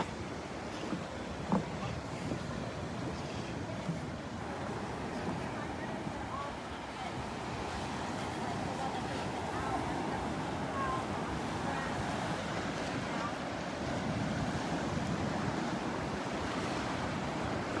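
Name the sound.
ocean waves on the beach by Naples Pier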